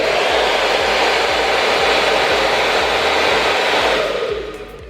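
A Dyson Airwrap and then an Elchim hair dryer blow in turn, a steady loud whooshing roar of air that holds for several seconds before tapering slightly near the end, with no voices.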